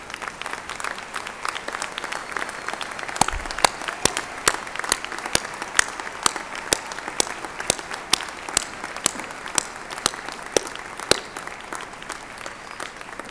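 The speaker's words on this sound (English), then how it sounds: "Would the faculty please stand so that we may applaud you and thank you." Sustained applause from a commencement audience honoring the standing faculty, dense clapping with a few sharper individual claps standing out, steady and moderately loud throughout.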